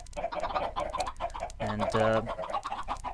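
Chickens in a Minecraft chicken farm cluck repeatedly in short choppy bursts, fairly faint, with someone talking over them.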